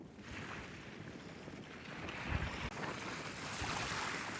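Wind buffets the open water while fishing for carp at the start of the season, a steady broadband rush with microphone buffeting and a gust near the middle. No one speaks.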